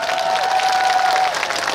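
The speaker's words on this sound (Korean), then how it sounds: "박수 한번 주세요." A brief, loud burst of crowd applause and scattered cheering at an outdoor civic-day concert in Osan, steady clapping throughout with a faint tone humming underneath.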